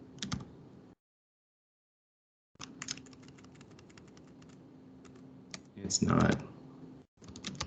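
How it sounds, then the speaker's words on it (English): Quick, light clicks from typing on a computer keyboard come in bursts with a short gap of silence, close and fairly quiet, while a voice speaks briefly. "I'm just typing to see if it helps me."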